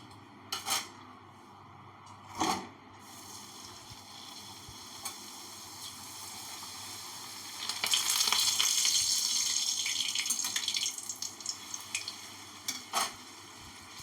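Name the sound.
luchi frying in oil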